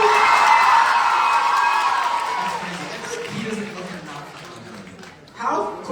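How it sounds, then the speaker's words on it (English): A live show audience at a surprise party tour stop in Philadelphia cheers loudly, a dense roar of shouting and screaming that fades over several seconds before a brief fresh burst near the end. "Round of applause for Sandy."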